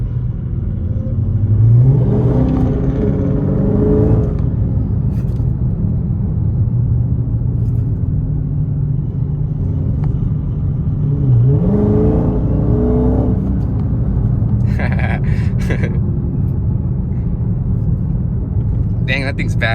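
A Dodge Charger with an aftermarket wide body kit rumbles nearby with a deep, loud engine burble that swells twice in revving surges, and people talk over it.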